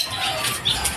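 Caged birds being fed, with brief sharp squawks and flurries of wing flapping over a rustling, busy background, close up and lively.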